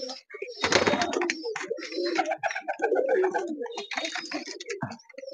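Pigeons cooing close by, several bursts of throaty coos with wing rustles and faint chirps between them, loud and near with brief quiet gaps.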